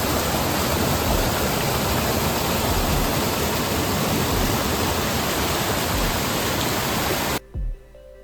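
Polianytsia waterfall near Polianytsia village in the Carpathian mountains pours as a loud, dense, steady rush of water for about seven seconds, then cuts off abruptly to near quiet.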